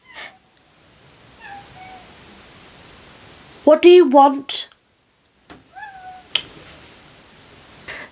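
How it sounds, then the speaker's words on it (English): A house cat meows a few times in short, rising calls, fairly close in a quiet room, with a person speaking briefly between the calls. "My cat's just come in the room."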